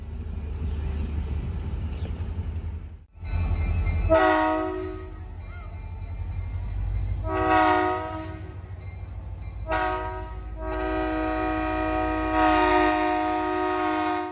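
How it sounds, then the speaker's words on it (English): Great Smoky Mountains Railroad GP38-3 diesel locomotive running around its train at a station platform, with a steady low engine rumble and several loud, sustained horn blasts; a brief drop near the start, then long blasts toward the end. "the engine does a runaround to the front of the train"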